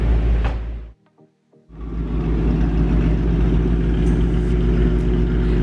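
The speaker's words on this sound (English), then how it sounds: "Right now, both cars are idling. I do want to show you what both of them sound like," A 2018 Shelby GT350 with JLT intake and a 2009 BMW E92 M3 idle side by side on a dyno day, giving a loud, steady engine rumble that briefly drops away near the start, then resumes.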